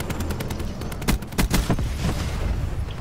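Peacekeeper assault rifle fire in a first-person shooter video game: rapid bursts of loud automatic gunshots, with heavier cracks near the middle, continuing throughout.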